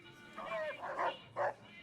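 Rex, the cyborg dog with a visible brain in Fallout: New Vegas, gives a few short yips and barks in the game, clustered in two quick bursts over a low background hum.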